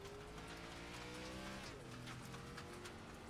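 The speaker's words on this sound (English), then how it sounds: "You can hear all the rocks, debris hitting the underside of that race car." Rocks and debris rattle against the underside of a race car at Daytona International Speedway, a faint, dense gritty clatter mixed with tire squeal and engine whine from the track.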